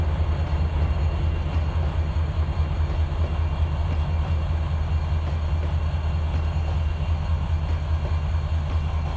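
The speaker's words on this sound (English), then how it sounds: "There's Damon's train right here" A train runs in the Trainz 2022 simulator game, giving a steady, unbroken low rumble with faint rhythmic clatter that holds at the same loudness throughout, with no talking.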